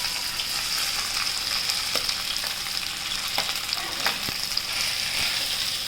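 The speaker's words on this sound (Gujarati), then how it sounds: "હવે એમાં છે ને આપણે મકાઈનું છે એ નાખી દઈએ." Corn kernels sizzling in hot oil with ginger and chilli for chevdo, a constant crackling fry with occasional scrapes and taps of the stirring spoon, close and steady with no talk.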